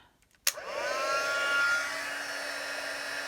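Embossing heat tool switching on with a sharp click and then blowing hot air in a steady, close whirring roar, no talk over it.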